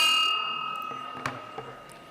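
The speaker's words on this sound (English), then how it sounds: "I'm going to ring the bell to call the meeting to order" A bell rung once to open a Rotary Club of Oakland meeting, its clear ringing tone fading slowly in a quiet room, with a few faint knocks as it dies away.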